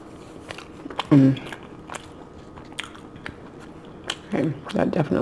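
Someone bites into a Del Taco steak burrito with cheese, guacamole and french fries, giving a few close crunchy bites and soft chewing sounds with quiet pauses between them.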